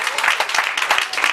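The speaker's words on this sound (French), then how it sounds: "Il faut l'applaudir jusqu'ici" Applause for Dr Bendjo-Kouedan at a speech event, a short burst of dense hand clapping at moderate volume, with voices mixed in.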